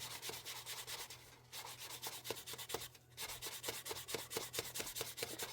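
Rapid rhythmic sanding strokes rub fine wet/dry sandpaper back and forth over a pen, smoothing out teeth marks; close, steady scratching with two short pauses and no voices.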